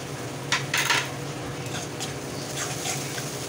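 Metal spoon scraping and clinking in a pan while ginger, garlic and poppy-mustard spice paste is stirred and fried for a Bengali boal fish curry, a few clear clatters over a low steady background.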